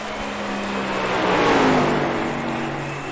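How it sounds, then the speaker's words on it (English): A race car engine at Phoenix racetrack drones and swells in pitch as it passes, loud and steady, rising to a peak mid-way then easing off the throttle. "you can hear in the RPMs, these guys are way off the throttle"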